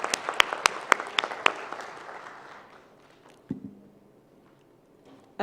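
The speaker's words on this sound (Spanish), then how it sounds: "le damos un aplauso a la consejera Marván" Audience applause at a forum on gender quotas in Mexico, brisk claps at first that thin out and fade to a quiet room, followed by a couple of faint knocks.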